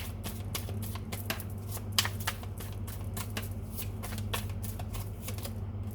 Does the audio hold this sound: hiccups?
no